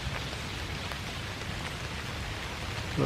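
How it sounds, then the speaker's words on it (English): Wind shakes rainwater off tree leaves in a park on a rainy, foggy morning, a continuous patter of drops falling close by, with no talk. "I think that was just the wind blowing the water off the leaves."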